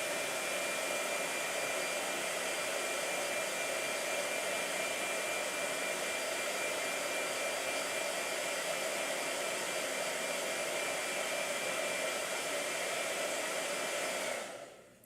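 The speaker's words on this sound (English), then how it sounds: "Blow dryer." A blow dryer runs at a constant loud whir for about fifteen seconds, close and unbroken, then cuts off and winds down at the very end.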